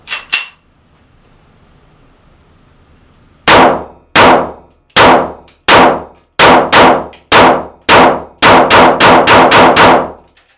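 After a couple of early bangs and a pause, a Zoraki 914 9mm P.A.K. blank pistol fires a rapid series of loud, sharp shots with Perfekta Titan blanks, about a dozen, quickening toward the end.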